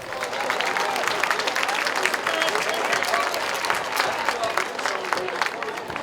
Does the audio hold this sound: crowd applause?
yes